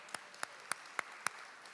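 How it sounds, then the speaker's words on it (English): A handful of sharp, evenly spaced claps, about five in under two seconds, sound at a sponsor thank-you during a charity event recording, thin and fairly quiet rather than a full crowd roar. "Let's give them a round of applause."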